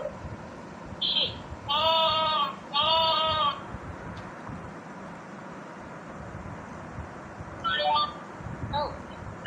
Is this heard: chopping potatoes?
no